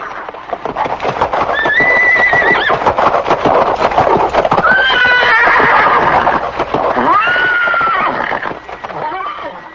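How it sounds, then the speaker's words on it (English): A horse, cast as the demon horse Kesi, neighs loudly in long, wavering whinnies, three or four in a row, over a dense background of hoofbeats and clatter. "he terrified everyone present with his loud neighing"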